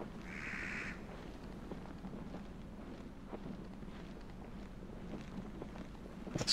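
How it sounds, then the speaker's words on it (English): A harsh, croaking bird call rings out once near the start in the video game Don't Scream, then fades into low, breathy wind with faint rustling. "Let's go find out what that bird is."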